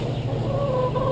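Backyard chicken clucking softly while being sprayed for mites in a coop, a steady low clucking close by over a constant hum of background noise.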